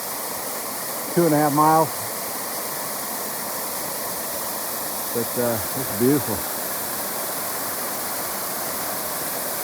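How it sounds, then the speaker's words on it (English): Waterfall just below its top on Mount Moosilauke, a steady broadband rush filling the whole clip at close range, with a person speaking briefly over it twice. "we're pretty much at just below the top of the waterfall itself"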